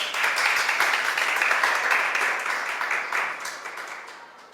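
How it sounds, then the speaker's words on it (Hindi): Students and guests at a coaching centre ceremony applaud loudly, a thick, even roar of clapping that holds for a few seconds and then gradually fades away. "इसके लिए जोरदार तालियां बजाओ।"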